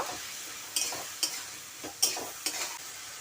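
Chili powder and green chili paste being stirred into datar koura in a pan, a few distinct scraping strokes over a soft sizzle, close and alone.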